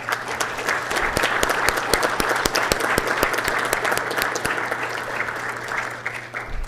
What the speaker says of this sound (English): let's give a great round of applause for National Reading Month.